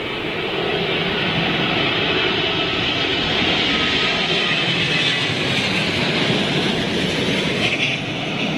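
A carbon-fuselage airliner lands on runway 27L at Heathrow during Storm Ellen. Its engine roar is loud and continuous, with gusty wind rumble underneath, and it holds steady throughout with no talk.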